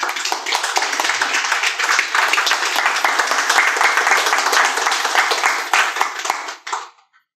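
Audience at a mind power workshop clapping, a dense sustained burst of applause close by that holds steady for several seconds before stopping abruptly.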